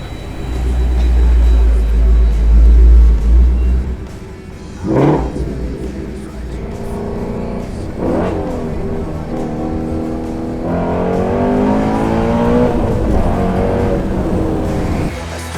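A Ford Mustang GT350 with a wide body kit, exhaust set to sport or track mode, roars loud and close with a strong low rumble, then settles into steady revving and acceleration runs.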